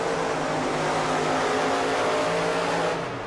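Two Monster Jam trucks roar off the line side by side in a racing heat at an arena in Cardiff, Wales, a dense, sustained engine drone filling the space, loud and steady.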